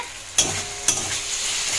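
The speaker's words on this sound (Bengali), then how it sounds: "শাকটা ভাজা হয়ে গেছে" Fenugreek greens sizzling in a pan with a little sugar, two distinct scraping stirs of the spatula over a close, continuous frying hiss, no talking.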